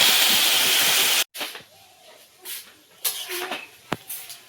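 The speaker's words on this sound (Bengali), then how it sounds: "তোমার একটু জল দিয়ে দেবো।" Water is splashed into a hot pan of fried vegetable curry and erupts in a loud, harsh hiss of steam that cuts off abruptly, followed by quieter bubbling and a few utensil knocks.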